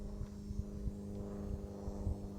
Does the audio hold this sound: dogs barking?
no